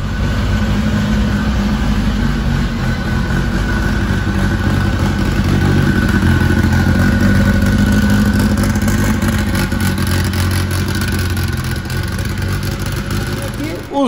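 Modified Volkswagen Beetle drag car engine running loud and steady at a drag strip, a constant close rumble with no pauses throughout.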